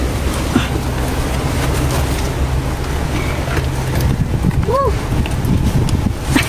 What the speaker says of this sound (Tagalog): Ay, kabayo.